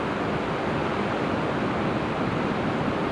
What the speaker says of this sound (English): I'll wait here and time it between these waves so I don't get soaked with salt water.